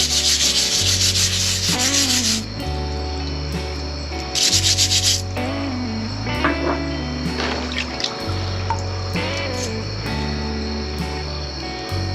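A brush scrubs Chester County blue quartz rocks in loud, bristly bursts, switching between hard strokes and quieter rubbing with small clinks, close up and without talk.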